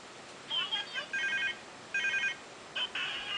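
A telephone ringing during a call, several bursts of an electronic trilling ring with short gaps between them, quiet under background noise.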